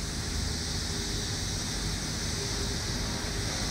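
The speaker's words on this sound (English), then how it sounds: "That noise you can hear over there is the flare stack." A gas flare stack roars at a leaky well pad in the early morning, a steady broadband rushing like heavy wind or surf that holds constant and fairly loud throughout with no break.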